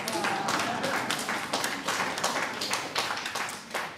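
Applause at a York County Council meeting, a room of people clapping in a fast, uneven patter with distinct sharp claps, moderately close and continuous, swelling and easing in waves.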